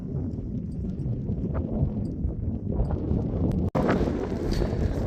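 Steady wind noise buffets the microphone high in a canyon over 7,000 feet up, a continuous rushing roar with gusts and no speech.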